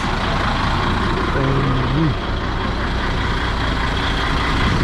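A car arranged for a trip in Kyrgyzstan produces a loud, steady engine rumble that fills the whole stretch, with a brief voice-like sound rising over it.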